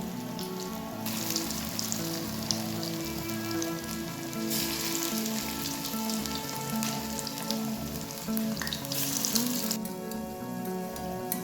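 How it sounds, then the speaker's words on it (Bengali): Drumstick (sajna) flowers fry in oil over a low-to-medium gas flame, giving a steady, close, rain-like sizzle that runs unbroken throughout with no voices. "একটা পিঠ খুব ভালো ভাজা হয়ে গেছে। এবার আমি এগুলোকে একটু একটু করে উল্টে দিচ্ছি।"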